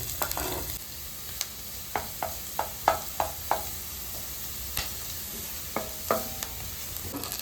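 Chopped ginger frying in a pan for Kerala gooseberry pickle, with a low steady sizzle broken by a series of sharp clinks and scrapes as it is stirred, fairly close and without talk.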